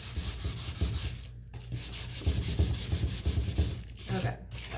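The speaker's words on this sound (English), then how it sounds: "just make sure to sand with the grain" Sandpaper rubbed along the grain of a wooden stacked-egg craft piece, producing rapid rhythmic scratchy strokes close to the microphone, with a couple of brief pauses between bursts.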